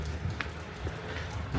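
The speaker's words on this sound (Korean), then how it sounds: "여기는 도착한 날부터 비 오고 오늘도 비가 오고 있습니다" Rain falls steadily in Cusco, Peru, making a continuous soft hiss of drops on surfaces that stays even and close, with no one speaking.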